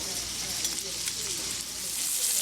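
Scallops seasoned with salt, pepper and garlic powder sizzle in butter in a stainless steel pan, a steady, close, crackling fry throughout.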